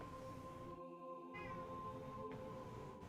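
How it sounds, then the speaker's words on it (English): A house cat meows at another cat with faint, drawn-out wavering cries. They sit low under a constant background hum, one clearer rising call near the middle. "One of my cats is just meowing at another cat, and it sounds hilarious."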